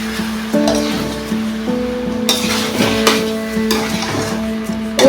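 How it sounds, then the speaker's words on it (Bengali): Rice, lentils and chicken fry in ghee in a pot for meat khichuri, giving a close, continuous sizzle broken by scraping stirs from a utensil, with no one speaking. "ঘি দিয়ে ভেজে নেবো চাল আর ডাল আর চিকেনটা একসঙ্গে"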